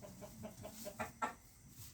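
Burmese-breed Thai fighting roosters clucking at a farm, a faint run of soft, regular clucks followed by a couple of sharper calls, distant and low in level.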